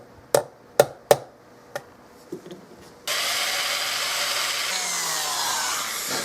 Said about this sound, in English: That drill bit is really, really dull.